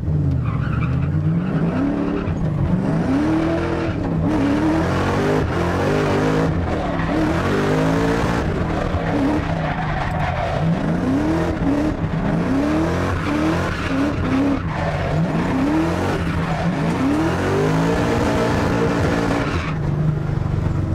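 A loud supercharged drift car revs hard and squeals its tires repeatedly, engine pitch sweeping up and down in rapid cycles as it slides continuously.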